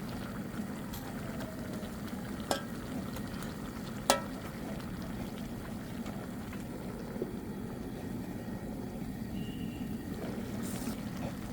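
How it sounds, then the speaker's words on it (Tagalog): Ginataang gulay, vegetables in coconut milk, being stirred in a pan: a steady low bubbling simmer, with a few sharp clinks of the utensil against the pan. "Haluin natin guys."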